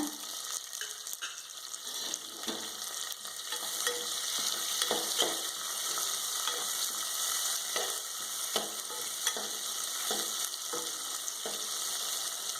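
Onions sautéing in a pan: continuous sizzling with repeated scraping and stirring knocks from a spoon, fairly close, no one speaking.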